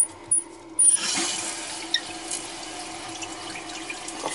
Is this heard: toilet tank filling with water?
yes